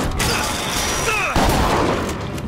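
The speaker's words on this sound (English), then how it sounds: "Shotgun for the win." A shotgun in the video game Bioshock Infinite fires a loud blast midway, with a booming crack and a rumbling tail over a busy background of in-game sound.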